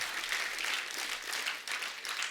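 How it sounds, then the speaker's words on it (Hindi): A studio audience at a comedy TV show breaks into dense, sustained applause, a steady wash of clapping from many hands that fills the whole short stretch. "पर यार ये तालियां बनती यार"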